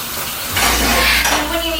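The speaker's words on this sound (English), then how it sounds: "I'm going to add some water to the pasta because it's boiling" Water poured into a pot of boiling pasta as it cooks for stuffed meatballs, a loud hissing sizzle that bursts in about halfway through and holds steady to the end, with no talk over it.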